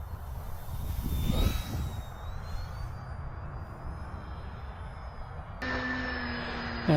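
Radiolink A560 small electric RC airplane flying overhead on a calm day, its motor whining with a pitch that drifts, with a steady wind-like rumble underneath and a sudden higher-pitched tone shift near the end.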